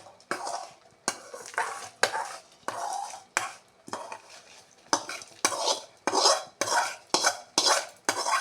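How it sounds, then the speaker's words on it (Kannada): A spoon or ladle stirs spices into a greens sambar in a metal pan, with repeated scraping, clinking strokes in a steady rhythm and a light sizzle underneath. "ಈಗ ಮಸಾಲೆ ಪದಾರ್ಥಗಳು ಇದನ್ನು ಕೂಡ ಮಿಕ್ಸ್ ಮಾಡೋಣ."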